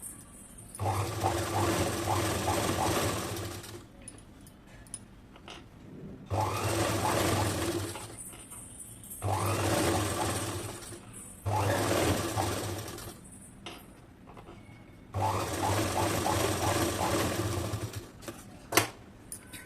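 A sewing machine runs double stitching along the sleeve edge of a ready-made dress top, in five steady loud bursts of whirring stitching, each a few seconds long, separated by quiet pauses with small handling clicks.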